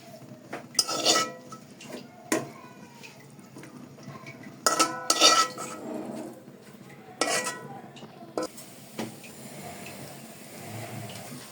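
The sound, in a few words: lifting cooked greens onto a plate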